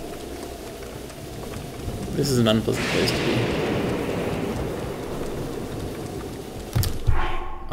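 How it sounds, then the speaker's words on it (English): Steady heavy rain hisses throughout in the video game Zelda: Breath of the Wild, with a burst of splashing partway in, while someone talks over it. "It's raining too hard."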